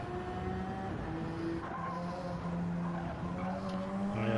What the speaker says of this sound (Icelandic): það er skemmtilegast að hljóði í bílum að spinna